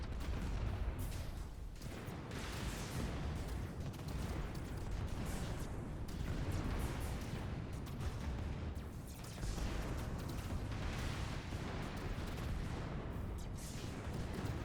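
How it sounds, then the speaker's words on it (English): Rolling, overlapping explosions from space battles in the strategy video game AI War 2, a dense continuous barrage of booms and crackling bursts at steady loudness, with no talking. "Explosions."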